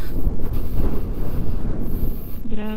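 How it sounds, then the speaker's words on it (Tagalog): Loud gusty wind buffeting the microphone with a low roar throughout, and a brief engine-like hum near the end. "Grabe yung hangin."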